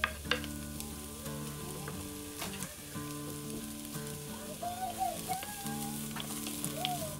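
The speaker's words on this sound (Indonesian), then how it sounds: "Kemudian lombok hijau, semuanya kita tumis hingga harum dan layu." Garlic and green chilies sautéing in a pan, with a steady, close sizzle and frying crackle throughout, plus occasional stirring scrapes and clinks of a utensil.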